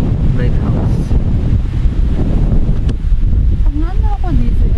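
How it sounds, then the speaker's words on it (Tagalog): Strong gusting wind beside a coastal lighthouse, buffeting the microphone in heavy continuous roars, with voices talking briefly in the background. "Taas ng hangin."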